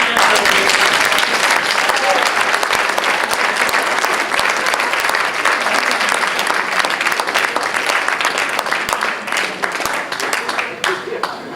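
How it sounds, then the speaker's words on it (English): A magic show audience gives a volunteer loud, sustained applause, dense clapping from many hands close by, with voices faintly mixed underneath and a slight taper toward the end. "Give him a nice round of applause for coming up and helping"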